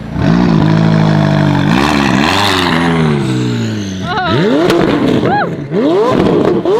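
A Ferrari supercar engine revs loudly, with rising and falling revs, then sharp blips and pops as it spits flames; people's voices are audible in the background.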